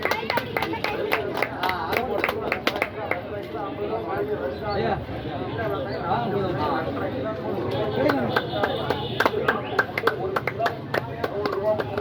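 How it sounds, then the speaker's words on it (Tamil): An audience claps at a village drama (thavasu natakam) staged near the Poovayamman temple in Mallur Vengampatti. Bursts of scattered hand claps come at the start and again near the end, mixed with crowd chatter and a speaking voice. "கைத்தட்டு கைத்தட்டு கைத்தட்டு"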